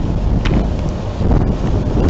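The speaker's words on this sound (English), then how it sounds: "wind's picking up a little bit" Steady outdoor wind buffeting the microphone on a warm day, a continuous low rumble with gusts that swell slightly partway through, no voices heard.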